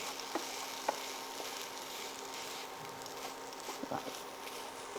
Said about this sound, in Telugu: సో ఇలా దగ్గర పడే వరకు మనం దీన్ని కలుపుకుంటూ ఉండాలి